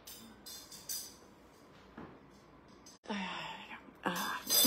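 Heavy, labored breathing comes from a man in repeated close, breathy bursts, with quiet gaps between them and louder breaths toward the end. There are soft whisper-like sounds but no clear talk.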